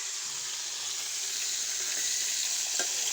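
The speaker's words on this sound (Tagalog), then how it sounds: "prito lang tayo guys ng isda" Fish fries in a pan, giving a steady close crackling sizzle throughout with a faint click near the end.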